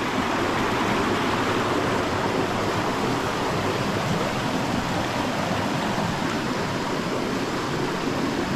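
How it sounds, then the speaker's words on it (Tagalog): A strong river current rushes over rocks in a steady, dense roar of flowing water that stays loud and unbroken throughout, with no voices. "Malakas ang agos ng tubig."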